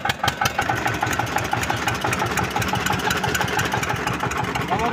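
An Eicher tractor engine runs in a steady, rhythmic chug close by, the diesel thrum filling the whole stretch with a rattle on top.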